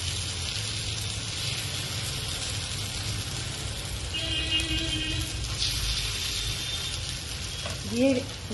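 Healthy oats and semolina chilla batter with onion sizzles in hot oil in a pan on a gas stove, a steady crackling hiss throughout, with faint background sounds and a short clink near the end.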